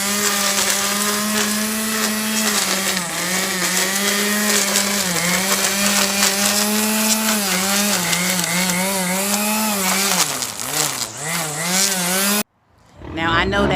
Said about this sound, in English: So he's going to weed whack